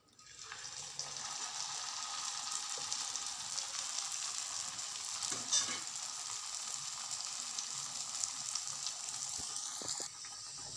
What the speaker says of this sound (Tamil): இப்போ எண்ணெயில் வறுத்து காட்டுறேன் பாருங்கள்